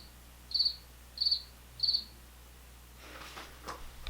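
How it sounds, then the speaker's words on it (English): Three evenly spaced high-pitched cricket chirps, crisp and clear against quiet background, then faint rustling. "This is a cricket."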